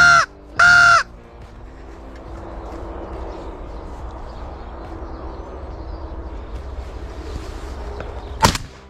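Crows caw during a crow hunt to protect crops in open countryside. Two loud, harsh caws come at the start, followed by a quiet outdoor background with distant calls and a sharp, loud burst near the end.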